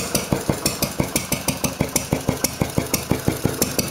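A Wolseley WD8 stationary engine runs close by, still warming up after a short run, with a steady, even chuff at about four to five beats per second and sharp knocking on every stroke, no voices.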